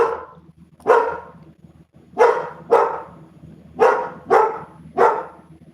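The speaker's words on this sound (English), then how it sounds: "my dog's even going off" A dog barks sharply in six separate bursts, some singly and some in quick pairs, close by against a quiet room.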